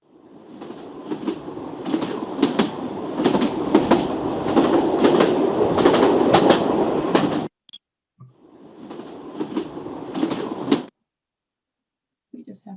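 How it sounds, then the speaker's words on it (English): Passing train recorded in Mallorca, a loud rolling rumble with rhythmic clickety-clack of wheels over rail joints, rising then cutting off, followed by a shorter second burst of rattling carriages. "Yes, train, absolutely is a train."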